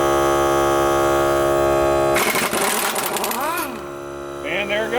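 Small cordless air compressor motor running steadily with a strong harmonic drone, then a sharp hissing release before the motor hum resumes, loud and close while refilling pressure after work on a wheel hub.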